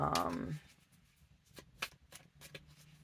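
Tarot cards being shuffled to pull clarifier cards: a soft riffle at the start beneath a speaking voice, followed by a few quiet papery flicks and taps of the cards on a quiet background.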